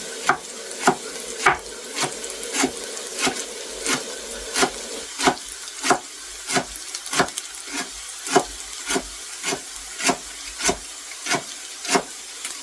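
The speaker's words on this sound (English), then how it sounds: "Fold them over and then carry on slicing." Knife cutting through rolled Swiss chard leaves on a board: steady, evenly spaced chops, about one every half second, crisp and close with no talk.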